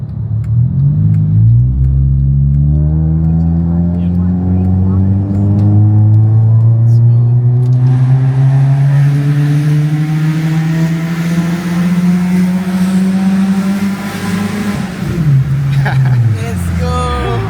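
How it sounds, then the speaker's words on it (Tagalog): A Honda Civic FD with an aftermarket exhaust revs loud and close, its note climbing steadily in one long pull before dropping off, with voices talking over the engine. "Ganda ng exhaust ah."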